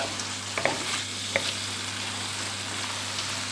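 Diced and tinned tomatoes with beef simmer and cook down in a pan, giving a soft, steady sizzle with a few faint clicks of stirring and no talk.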